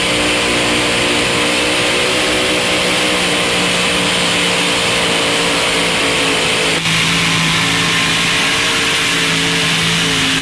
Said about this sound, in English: It's a blown Chevy, big block motor, component chassis, performance transmission, performance rear end, and performance tires.